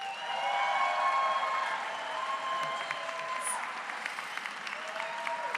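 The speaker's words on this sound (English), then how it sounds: "Please join me in a very big round of applause for the 2023 JD graduates" Audience applause at a law school JD graduation commencement ceremony, sustained even clapping from a large crowd in a hall, steady and fairly loud throughout with a few faint cheers.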